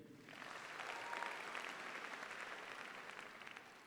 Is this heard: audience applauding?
yes